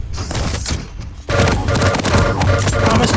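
Rocket launcher fire from a Quake duel game echoes as a rapid burst of heavy booms and thuds. The volume rises sharply midway, and the explosions crowd together in a dense fusillade.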